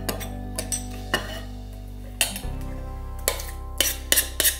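A flat plate is set down and shifted in a kitchen before hummus is served, giving a few sharp ceramic clinks and taps scattered over a low steady hum.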